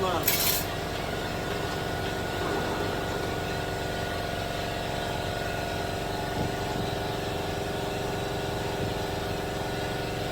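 An air compressor runs continuously in a workshop with a steady mechanical hum and drone, one brief burst of noise at the start and faint knocks underneath.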